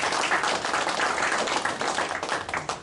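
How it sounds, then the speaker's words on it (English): Participants in a sales class clap together, a brisk room-filling patter of hands that stays fairly even and close throughout, with no voices over it. "Let's give a round of applause."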